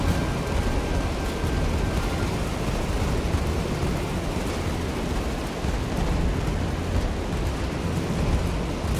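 Battlestations: Midway naval combat plays a sustained, loud, rumbling roar of explosion and fire after a direct hit on an enemy vessel, broadband and steady throughout with no distinct separate blasts.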